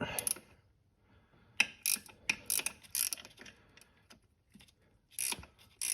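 A ratchet spanner loosens a bolt on the TPI plenum of a third-generation Camaro, giving close, crisp bursts of rapid clicking separated by short pauses.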